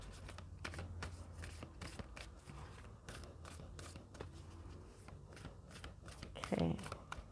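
Tarot cards are shuffled and drawn by hand, giving crisp repeated riffling and flicking close by while a voice talks over them.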